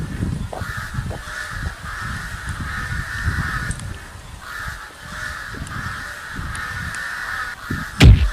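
Crow cawing used as a comedy sketch sound effect, repeated harsh caws at a steady pace, fairly loud over a low rumbling background, ending with a sudden louder thump.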